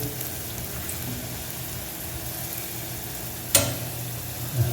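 French fries frying in hot oil, with a steady, dense crackling sizzle running throughout, close and even, broken by one sharper bubbling burst near the end as more potato goes in; nobody speaks.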